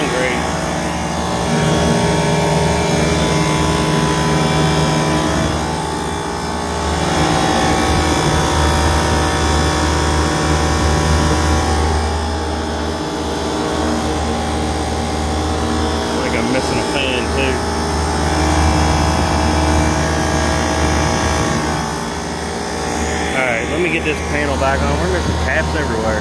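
Two 1990s Trane package air conditioning units with a cold suction line run loudly outdoors, producing a dense, constant roaring hum with mechanical rattle that swells and eases slightly throughout.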